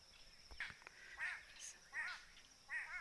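A common drongo calls around a safari camp at Amboseli, giving several short, faint, chattering whistled notes in a loose rhythm at a distance, with no talking.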